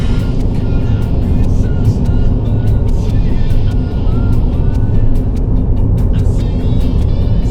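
A guide car passes on a road between Cusco and Arequipa, a loud, continuous engine and tyre roar close by, with light ticking and rattling above a heavy low rumble.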